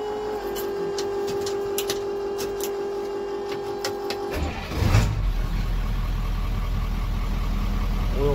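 A 1996 International T444E diesel truck engine cranks for a few seconds with a mechanical whine, then catches and settles into a loud, steady diesel idle close by.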